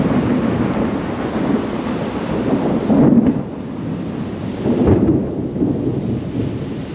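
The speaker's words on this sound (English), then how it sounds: "Lightning and thunder. lightning and the thunder." Heavy rain pours steadily in Ipoh, Malaysia, while thunder rumbles low and loud twice during the storm, each roll swelling out of the constant downpour hiss, with no voices.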